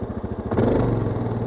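A motorcycle engine chugs at a low idle, then abruptly rises into a louder, rougher rev as the throttle opens, close and steady.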